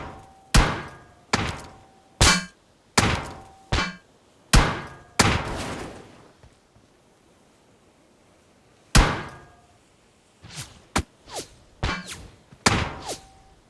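Gunshots in PUBG Mobile come as sharp single cracks, spaced unevenly with a few close together, followed by a quiet stretch and then a faster cluster of shots, heard alone without talk.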